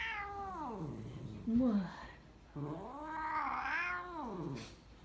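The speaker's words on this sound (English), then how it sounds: "This is your cat being happy at the doctor's." A pet cat meows and yowls loudly at the vet, long drawn-out wavering cries rising and falling in two main bursts, with a person speaking briefly over them.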